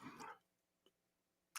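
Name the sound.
dog barking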